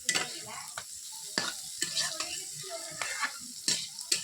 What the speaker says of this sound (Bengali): এই উচ্ছেটা ভাজা চলছে